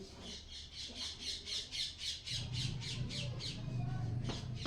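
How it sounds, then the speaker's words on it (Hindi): Parrot squawking in a steady, rapid series of harsh, repeated calls, fairly close, with a low background hum building beneath the second half. "तोता"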